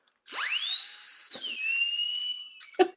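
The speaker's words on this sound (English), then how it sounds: "I found it at a novelty store where I get balloons and things like that way back when" A novelty store noisemaker that sounds like a dentist drill gives a loud, close, high-pitched whine that sweeps up, holds steady, dips and trails off, followed by a short clatter.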